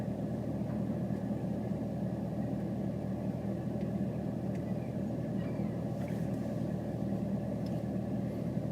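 A loud car engine runs as a steady low rumble from inside the car, continuous and unchanging throughout, with no talk over it.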